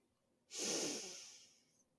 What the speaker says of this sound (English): Take another breath in.